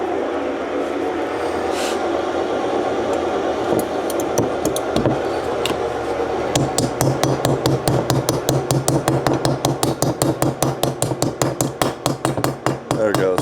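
Bearings hammered into heated 70cc scooter engine cases on a workbench: a long run of sharp, loud metallic blows, sparse at first, then a rapid steady rhythm of strikes near the end, over a constant background hum.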